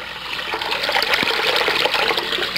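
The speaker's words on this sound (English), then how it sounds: "we want to fill up a bowl here and get plenty of water." Water gushing steadily from a tap into a bowl, a loud continuous splashing rush that stays even for the full stretch with no talking.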